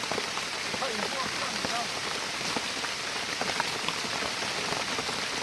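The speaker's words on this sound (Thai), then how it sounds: "ฝนกำลังลงอยู่" Rain falls steadily and evenly, patter and drips hitting surfaces nearby in a constant hiss.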